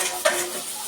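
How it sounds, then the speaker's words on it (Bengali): Spice paste of chili powder, coriander powder, salt and ground cumin frying in a pan, a steady soft sizzle with a single sharp scrape of a spoon stirring, close by. "মশলাটা একটু কষিয়ে নেব।"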